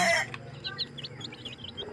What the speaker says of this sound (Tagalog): manok, mga piso. Makalingaw kay ang mga piso tanawon.